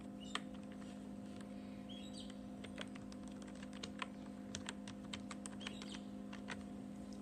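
Typing on a computer keyboard, quiet rapid key clicks in uneven bursts over a steady low electrical hum, no speech.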